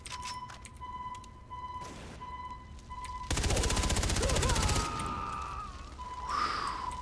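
A tonal alarm in Far Cry 3 repeats steadily with beeping pulses, loud, then a burst of dense rapid gunfire floods in around the middle, with the alarm tone returning afterward amid game noise.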